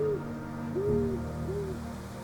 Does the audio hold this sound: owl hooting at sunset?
yes